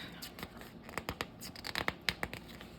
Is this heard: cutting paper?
yes